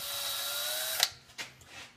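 A power drill spins on old screws in a Camaro roof skin repair, giving a steady whine for about a second before stopping, followed by a few faint clicks and knocks.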